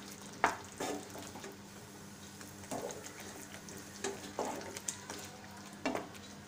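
Onion gravy for paneer do pyaza simmers in a pan while half a spoon of garam masala is stirred in, bringing a quiet, bubbling sizzle and several soft scraping stirs of a spoon.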